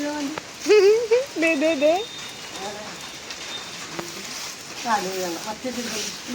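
A steady hiss of rain falls in the background while people talk over it in short bursts.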